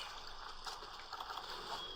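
A waterfall in the Monster Hunter Freedom video game, a faint continuous hiss of falling, trickling water, steady and distant, with no clear voices.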